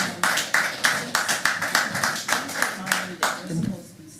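Rhythmic clapping rings out in the room at a Board of Elections candidate challenge hearing, roughly a dozen even, moderately loud claps in a steady beat, with speech alongside and the clapping stopping near the end.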